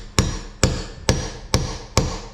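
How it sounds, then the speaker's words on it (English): Five evenly spaced hammer strikes ring out sharply and close, each a crisp metallic tap with a short decay, seating a part on a Toyota Tacoma; no talking. "And then you just want to hit it with a hammer a couple times."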